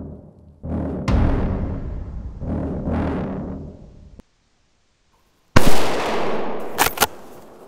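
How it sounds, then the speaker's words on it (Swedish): Loud, close gunshots ring out during a driven hunt in open countryside. Two reports with long decaying tails, a sharp crack, a brief silence, then another blast followed by quick cracks. "Det var Lubbe som sköt och den ligger ner död"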